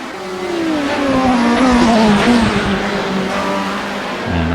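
Zakspeed Ford Capri G5 race car in Project Cars at Willow Springs, its engine droning loud and close with a rising and falling pitch as it accelerates and shifts, ending in a sharp change of note.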